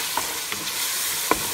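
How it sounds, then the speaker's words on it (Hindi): Chopped tomatoes stirred into hot spices with cumin and salt in a pan for masoor dal, a steady sizzle broken by a few sharp spoon scrapes, close and moderately loud. "टमाटर डाल के इसको मिक्स करेंगे थोड़ा"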